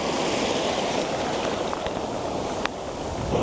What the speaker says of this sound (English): And the water just slowly coming in.